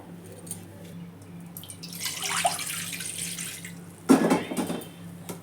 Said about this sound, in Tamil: இன்னும் 2 வாட்டி நல்ல தண்ணி ஊற்றி நல்லா அலசிட்டு அதுக்கப்புறம் தான் நம்ம வேக வைக்க போகிறோம்